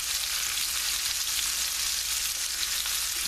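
Veal cutlet sizzles steadily in butter in a non-stick pan, a dense continuous frying hiss close up with no pauses or talk.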